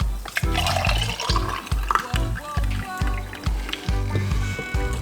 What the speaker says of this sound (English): we're going to simply just pour it out into another cup